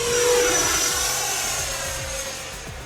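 Freewing J-10 Vigorous Dragon 90mm electric ducted-fan RC jet flying overhead, a steady loud whooshing whine that slowly fades as it passes, heard alone with no talk.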